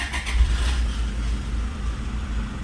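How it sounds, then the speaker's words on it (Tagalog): A car engine running steadily after being started with a push-button start, with a low continuous rumble and a brief brighter burst near the beginning, close by and without talk. "Ayan, nag-i-start na yung engine ng sasakyan natin."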